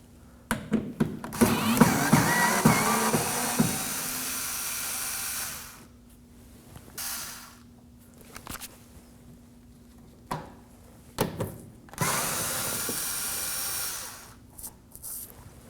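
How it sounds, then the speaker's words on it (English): Electric screwdriver taking Phillips screws out of the fender well on a 2014-2020 Acura MDX, with a few short whirring bursts between pauses, a low steady hum, and clattering handling nearby. "In this case, I'm using an electric screwdriver."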